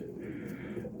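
Pigeons coo in a loft, a soft, low rolling coo close by, continuous and fairly quiet, with no voices.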